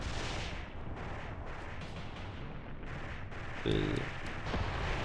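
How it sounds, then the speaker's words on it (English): Mortar shells burst in the war game Mius Front, heavy booms rolling through a dense, continuous battlefield rumble, with one louder impact standing out near the end. "mortars are hitting here, which is actually quite good"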